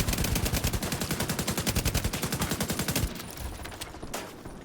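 An enemy player's gun fires in a PvP video game match as a rapid, evenly spaced automatic stream for about three seconds, then gives way to quieter, scattered game noise.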